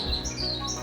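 Birds in an aviary bird room give several quick, bright chirps and tweets close by over a soft background hum, with no talking.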